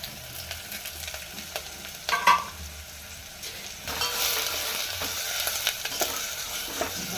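Chopped onions and green chillies fry in oil while being stirred, a steady sizzle with scraping spoon strokes and a louder clatter midway, the frying growing busier toward the end.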